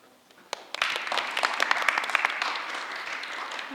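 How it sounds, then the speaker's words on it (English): Applause from a lecture audience after a talk on mass timber and forest design, starting suddenly after a quiet moment and holding as a moderate, fairly distant patter of clapping until the end. "We should applaud."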